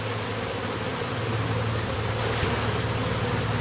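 Honeybees buzz around an open hive during a September inspection, a dense continuous droning hum filling the air close by and steady throughout, with no voices.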